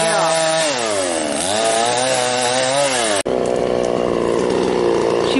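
A chainsaw trims a dead tree close by, its engine revving up and down as it cuts, then continuing at a steady high whine after a brief break.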